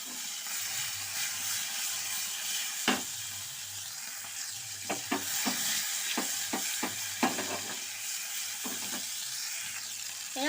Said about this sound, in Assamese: মাছখিনি মই ৰঙা কৰি ভাজি ল'ম।